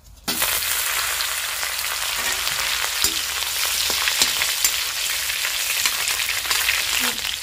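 Green chillies frying in hot oil for lauki kofta curry with peas, a loud continuous sizzle with crackling pops throughout, close up and without talk.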